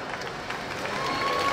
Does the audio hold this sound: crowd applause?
yes